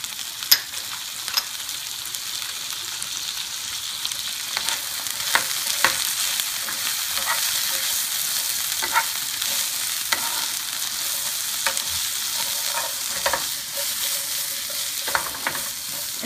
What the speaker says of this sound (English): So we're just gonna stir fry it for just a little bit, where it should still have that little crunch.